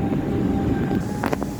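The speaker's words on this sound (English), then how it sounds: "And there goes our first train, train number 1 in our triple train meet inside of the Metro." Metro train rumbling through an underground station as part of a triple train meet, a steady low roar with brief brighter screeches near the end, no talk.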